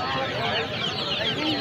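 Layer hens clucking at a bird market, a busy continuous chorus of overlapping clucks and chatter from several birds, with a voice faintly mixed into the crowd noise.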